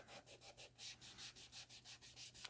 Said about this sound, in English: Polishing the solar lights with toothpaste.